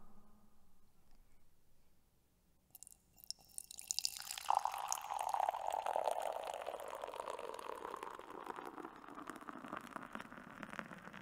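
A foamy drink being poured for a toast: after a quiet start, a bright fizzing, splashing rush of liquid and bubbles swells up and carries on steadily, close by, with no one talking.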